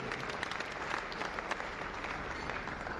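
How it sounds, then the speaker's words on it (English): An audience applauds a former Woodruff High School tennis champion honored at a sports hall of fame ceremony, steady dense clapping from a sizable crowd filling the room without pause. "Nice round of applause for her"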